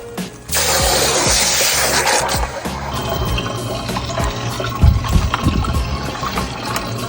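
Water pours and splashes into a pool filter system to prime it, a loud rushing gush that begins abruptly and runs steadily, then turns into uneven gurgling and sloshing toward the end.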